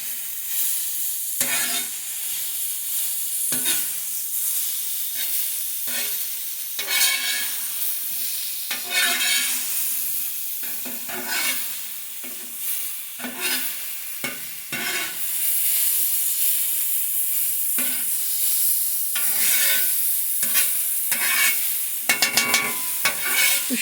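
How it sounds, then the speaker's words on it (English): Mushrooms sizzle on a flat-top grill while a spatula scrapes and stirs them in repeated sharp strokes, a constant hissing fry underneath, with no talking. "You don't want to saute the mushrooms too much like you would for a steak"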